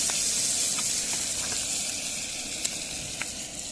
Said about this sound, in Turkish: Balıklar canlı canlı tavaya giriyor.